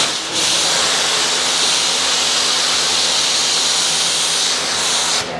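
A pressure washer sprays a hissing jet of water onto a car panel treated with Katiba's Red Line coating, starting abruptly and holding a loud, even rush before cutting off near the end, with no voices.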